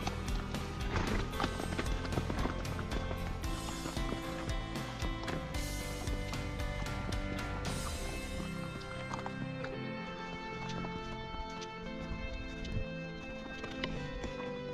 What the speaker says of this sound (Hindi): और हम लोग जा रहे हैं घोड़े में।